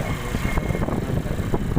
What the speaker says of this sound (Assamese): বহুত চাউণ্ড হৈ আছে গাড়ীত যোৱা জোৰত গৈছে